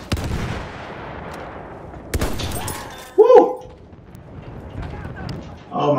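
Gunfire from a Battlefield 1 match, a few sharp shots and bursts rising out of a steady battlefield din, with a louder crack midway and another near the end.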